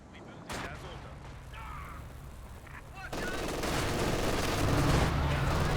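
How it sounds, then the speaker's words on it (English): Machine gun fire in a real-time strategy battle, rapid bursts rattling at mid distance amid a steady wash of battle noise that grows louder partway through. "Machine guns doing a good job"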